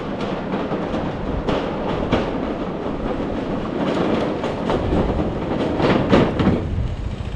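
A vehicle rumbles and clatters loudly over the loose planks of a wooden bridge, a continuous rattling roar with uneven knocks as it crosses close by.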